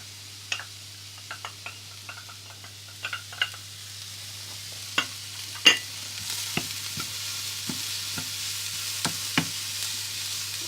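Garlic fries in a pan greased with spray oil, a faint steady sizzle underneath. Scattered sharp clicks and scrapes from stirring come at irregular moments, near and fairly quiet, with no voices.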